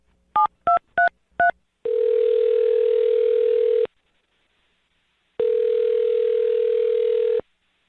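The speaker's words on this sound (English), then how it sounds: "I'm dialing the phone number." Four short touch-tone beeps in quick succession, then two long steady electronic tones separated by silence, loud and close.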